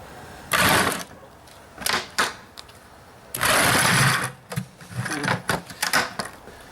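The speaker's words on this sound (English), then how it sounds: "use my handy dandy jigsaw here to go ahead and cut out the bottom of this" A jigsaw cuts out the bottom of a bucket in several loud, close bursts of buzzing, stopping and starting with brief quiet gaps between runs.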